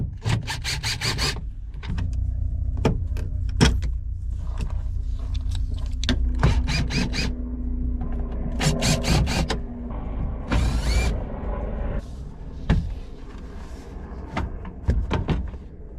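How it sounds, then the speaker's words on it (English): Repeated sharp clicks, snaps and plastic creaks come in bursts with short pauses, like trim clips popping loose while a car door panel is pried off in a junkyard. "I'm gonna pull all door panels off"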